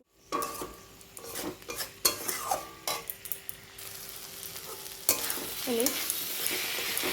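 Fried jackfruit seeds and potatoes are tipped into a spiced pan and stir-fried, bringing a close sizzle with clattering spatula scrapes and knocks against the metal, growing into a steady frying hiss.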